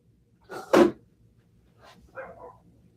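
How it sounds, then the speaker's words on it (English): A dog indoors gives a couple of sharp, close barks, followed a second later by a few softer, shorter barks, with quiet gaps between. "My dog's just barking because my mom just got home."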